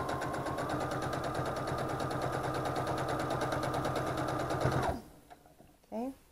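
A sewing machine stitches nested seams in fabric: a fast, steady mechanical hum with a regular needle rhythm for about five seconds, then it stops, leaving a quiet room with faint handling noises.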